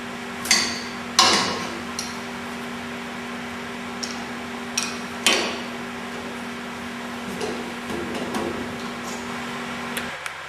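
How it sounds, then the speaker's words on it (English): Sharp metallic clicks and knocks come from a wrench tightening nuts that secure the column to the tabletop of an Electro Arc AC Table Top Model 2-SA, several separate taps over a steady low hum, no talking. "Using an open end or crescent wrench, you'll want to torque these nuts down so that the column is in fact secured to the"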